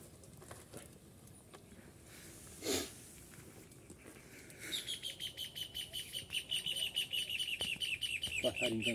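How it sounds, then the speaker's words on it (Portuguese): A small bird sings near a beach in a rapid series of bright repeated chirps that grow louder over several seconds, following a quiet stretch of outdoor ambience. "Passarinho cantando."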